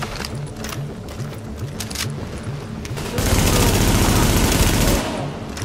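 Rapid automatic gunfire from a secondary weapon in The Division, with steady repeated shots building into a loud, dense burst in the middle before easing back.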